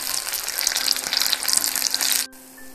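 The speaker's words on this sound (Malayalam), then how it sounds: "ഒന്നുകൂടെ ഞാൻ തിരിച്ചിട്ട് കൊടുത്ത് തിരിച്ച് മറിച്ച് വിട്ട് നന്നായിട്ടൊന്ന് പൊരിച്ചെടുക്കാം" Mango slices fry in hot oil in a steady, loud, close sizzle with bubbling crackle, cutting off abruptly near the end into a quieter hum.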